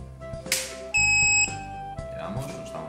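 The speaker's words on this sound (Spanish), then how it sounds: "Le damos, nos da un pitido." A single high electronic beep lasting about half a second sounds as a home phototherapy lamp switches on, amid faint handling noise and room sound.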